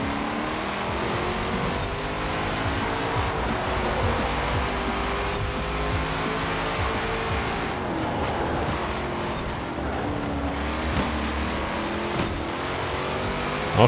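Ferrari F50 GT race car in Forza Horizon 4, engine droning loudly and steadily throughout, with rising and falling gear-change pitch as it accelerates along the track.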